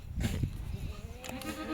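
A goat bleats nearby, a short wavering call over faint background noise.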